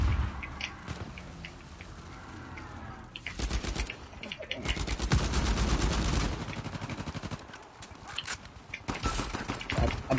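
Bursts of video-game gunfire on the Inception map of a multiplayer shooter, clattering mechanical shots and rattling automatic fire that swell loudly in the middle, with quieter stretches of game ambience between.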